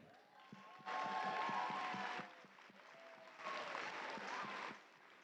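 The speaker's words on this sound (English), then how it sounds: "Another round of applause for that team, the Robot Defenders." An audience at an FTC robotics event applauds the Robot Defenders team in two distinct waves of clapping, moderately distant, separated by a quieter lull.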